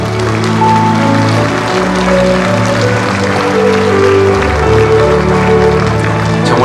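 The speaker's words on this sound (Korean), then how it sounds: "다시 한번 소개해드리는 분들께 박수 한번 부탁드리겠습니다" A crowd applauds at a city hall citizens' meeting in Nonsan, steady loud clapping sustained throughout with no break.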